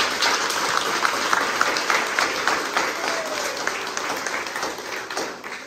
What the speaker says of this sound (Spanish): Démosle un fuerte aplauso a ellos por ser valientes.